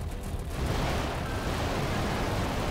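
Dense, rumbling blasts and weapon fire from the video game Garry's Mod, a continuous loud roar of explosions and shots with no clear pauses.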